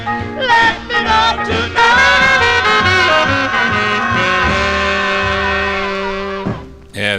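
A 1954 Deluxe record of a vocal group song plays loud and full, with harmonizing voices over a swinging band, ending on a held chord.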